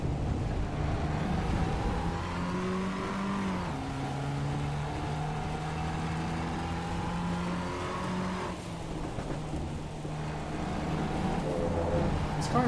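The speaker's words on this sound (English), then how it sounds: "This car at least sounds kind of nice." Simulated car engine from the racing game Assetto Corsa Evo, droning steadily at a near-constant pitch with brief dips around gear shifts and a faint high turbo-like whine above, loud and continuous throughout.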